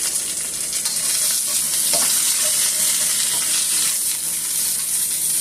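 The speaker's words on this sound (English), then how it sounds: "Go ahead and give this a good stir." Cabbage and mixed vegetables stir-frying in a stir fryer give a steady, close sizzle, with a few scraping stirs mixed in. There is no talking.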